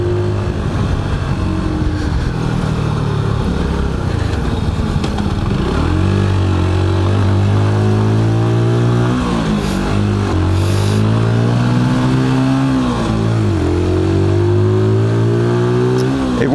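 A Mash 125 Black Seven motorcycle with a 15-horsepower 125 cc engine, revving and climbing through the gears on the road, close and loud, its buzzing note rising and dropping at each shift, with wind rush behind.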